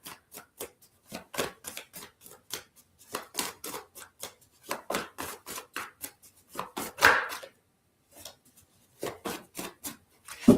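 Cards shuffled by hand close up, a steady run of short, crisp slapping and riffling strokes in an uneven rhythm with brief pauses, quiet and without speech.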